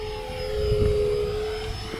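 Small RC EDF jet coming in to land with full flaps in a light breeze, its ducted fan giving a steady whining hiss with a sustained high tone, moderately loud and continuous for a couple of seconds.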